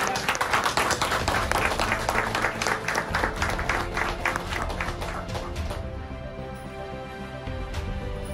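A motivational talk audience gives Roshan Bhardwaj a standing round of applause, crisp rhythmic clapping that is loud at first and then thins and fades toward the end.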